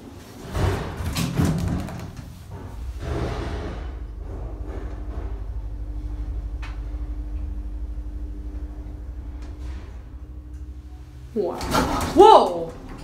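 A Westinghouse hydraulic elevator door at a Macy's store slides with a low rumbling thud and ends in a louder clunk, alongside a steady machine hum and some nearby talk.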